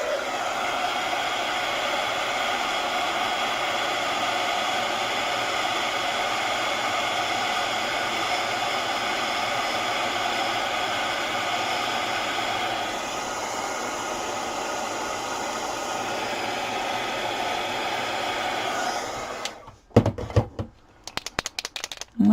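A hair dryer blows steadily and loudly over a wet watercolor painting for about twenty seconds, its whoosh shifting slightly partway through before it cuts off, followed by a few brief handling knocks.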